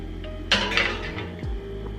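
A baking dish of blueberries set into an oven, a brief clink and scrape of dish on rack followed by a soft thud, close by against a steady background hum.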